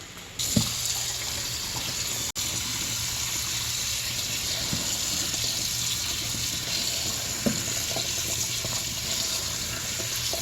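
Tap water gushes steadily into a sink while fresh cranberries are washed for a Christmas pudding, a continuous close rush with a few faint knocks from the berries and the bowl.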